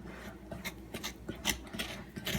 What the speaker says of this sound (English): I'm just going to kind of turn my bowl and kind of keep scraping it down in